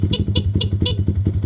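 The stock horn of a Yamaha Sniper 155 motorcycle sounds in four or five quick, evenly spaced honks, close and loud, with a low engine rumble underneath.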